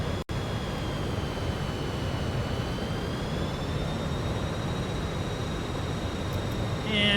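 Fokker F28 jet engines in Microsoft Flight Simulator hold a steady, loud broadband roar with a faint whine that rises gradually, heard on approach with flaps extended, no talk over it.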